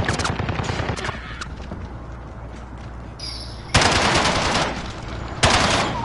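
Loud bursts of automatic gunfire in a Call of Duty video game, a short volley at the start and two sustained bursts later, with quieter shots and game ambience between them.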